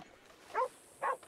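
Two short, distinct barks from a dog in the Red Dead Redemption roleplay game world, separated by about half a second and heard at moderate distance over a quiet background.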